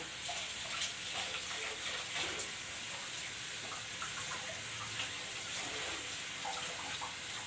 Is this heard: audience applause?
no